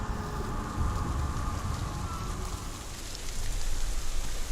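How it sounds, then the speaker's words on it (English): Steady hiss of rain falling on surfaces in the video game Hellblade: Senua's Sacrifice, a continuous broadband wash with low rumbling underneath, moderately loud and unbroken throughout. "It's raining again."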